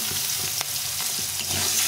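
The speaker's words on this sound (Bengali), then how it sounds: "আলুটাকে একটু ভেজে নেবো" Small skin-on potatoes frying in hot oil, a dense, steady sizzle close by with a faint stir partway through.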